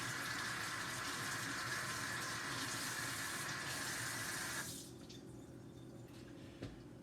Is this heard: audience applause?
no